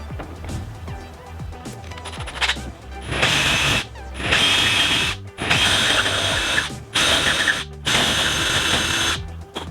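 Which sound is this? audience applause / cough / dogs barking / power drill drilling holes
power drill drilling holes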